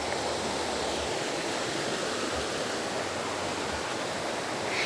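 River water flows in a continuous, even rush, a soft broad hiss with faint low burbles underneath, steady and unbroken for several seconds with no one speaking.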